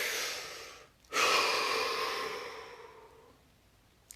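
A slow, deep breath drawn in and let out during a guided relaxation session, a long airy exhale fading gradually after a short pause, close and alone without talk.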